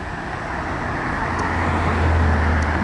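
Road traffic with cars passing, a continuous loud roar of tires and engines that swells toward the end as a vehicle draws near.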